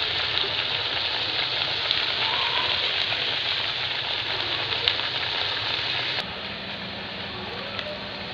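Chicken vade, a Konkani fried bread, frying in hot oil, a steady close crackling sizzle that holds for several seconds and drops slightly in level toward the end.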